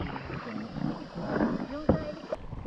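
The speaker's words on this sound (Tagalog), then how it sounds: "2 oras na kaming nagsasagwan." A kayak is paddled along a river current in Palawan, with soft splashing paddle strokes and water swirling close by, and voices speaking over it.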